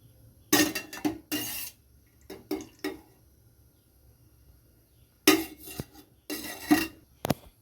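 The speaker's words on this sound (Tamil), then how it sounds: "வாணலியை அடுப்பில் எடுத்து வச்சுக்கோங்க. 2 கரண்டி ஆயில் விடுங்க." A metal frying pan clanks onto a stovetop and a ladle knocks against it as oil goes in, giving a few sharp, close metallic clatters in two clusters separated by quiet.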